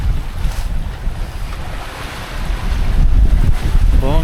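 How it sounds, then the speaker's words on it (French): Rough sea off Sicily, heard from aboard a sailing boat: waves surge and crash close by, with heavy wind buffeting the microphone, and the wash grows louder toward the end. "Et la mer est costaud hein"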